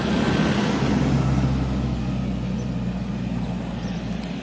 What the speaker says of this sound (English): there's a truck coming by.